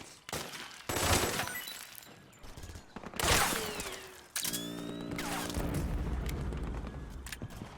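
Suppressing gunfire in Metal Gear Solid 4 comes as scattered loud shots and booms, followed by a steady mechanical rattle of sustained automatic fire that runs to the end, with faint voices mixed in.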